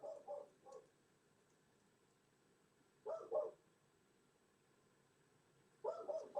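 A dog barks in three short bursts from a distance in a quiet indoor room, faint and spaced out with silent gaps between them.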